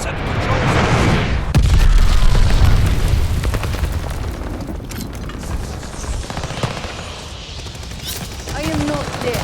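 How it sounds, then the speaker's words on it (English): Dense game combat in Mass Effect Legendary Edition, with a mortar barrage and explosions: loud rolling booms and rapid gunfire bursts that swell early and then continue under the chaos, with voices calling out through the fighting. "Allies calling a mortar barrage."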